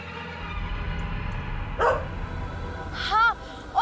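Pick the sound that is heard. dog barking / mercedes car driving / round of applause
dog barking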